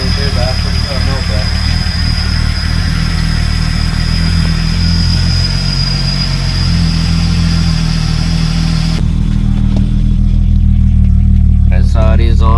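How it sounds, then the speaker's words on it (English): A Ford AU turbo SOHC Intech engine idles steadily and loudly on its first start, idling slightly high, with a constant low rumble throughout and people talking over it. "so it is idling a little high"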